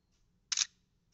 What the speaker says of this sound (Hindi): अब आपको डॉक्यूमेंट के ऊपर कैमरा रख के बस क्लिक कर देना है।